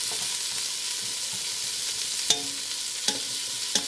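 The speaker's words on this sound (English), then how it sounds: "just toss in the carrots and let them get a little color on them as well" Carrots frying and browning in a hot pan, a constant close sizzle with three sharp scrapes of a spatula tossing them.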